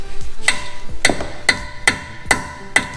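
Metal hammer blows drive a bit into a stripped bolt on a BMW 335i during brake and suspension work, five or six sharp, ringing strikes at an irregular pace, each with a short metallic decay.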